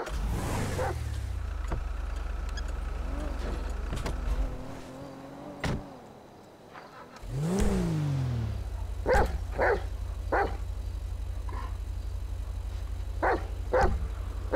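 A dog in the GTA V FivePD police roleplay game barks several times in short sharp bursts, mid-distance, over the steady low hum of an idling car engine and other vehicle sounds.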